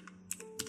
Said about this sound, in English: and then you're gonna type